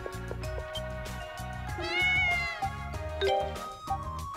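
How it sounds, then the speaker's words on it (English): Cat meowing repeatedly in the video game Ys: Memories of Celceta, the mews rising over steady game music with rhythmic beats underneath. "it's just a cat. It can't hurt you that bad."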